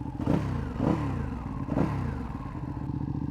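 A 2016 Ducati Panigale engine runs close by, three rising rev bursts in quick succession before settling into a steady idle rumble.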